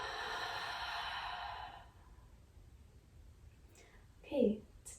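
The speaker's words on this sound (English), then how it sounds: "And exhale." A long, breathy yoga exhale lasts nearly two seconds and then fades into quiet room tone, followed by a brief soft voice.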